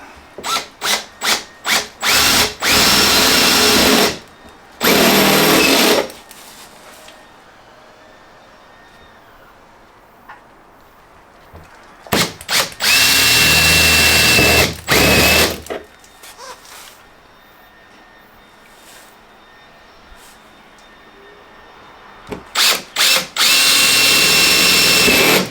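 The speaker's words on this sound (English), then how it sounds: "Just going to drill these 3 holes with a step drill." A power drill with a step bit whines loudly in several bursts, with short stutters and pauses between, as three holes are bored in a Golf GTI, close up.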